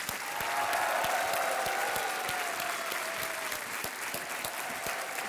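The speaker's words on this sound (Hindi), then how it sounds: "जोरदार तालियों के साथ इनका स्वागत किया जाए" Studio audience applause on a television quiz show welcoming a contestant, sustained dense clapping from many people that holds steady, then eases slightly toward the end.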